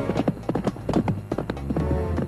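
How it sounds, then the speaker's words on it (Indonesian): A cartoon horse's hooves clip-clop in a quick, steady rhythm, close and fairly loud, with no talk over them. "Sepertinya kuda ini sedang menuju ke arah perkemahan musuh."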